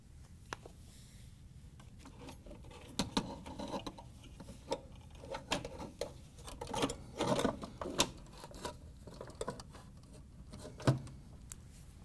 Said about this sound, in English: this is a self-tapping screw, so you just need to drive it through the bracket and cut the threads